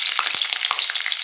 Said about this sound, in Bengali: কালো জিরা ফোড়ন দিলাম, দিয়ে এই যে কাঁচা লঙ্কাগুলো দিয়ে দিলাম